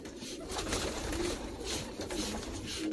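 Pigeons coo steadily inside a loft, their soft overlapping calls close and continuous throughout, with no pauses.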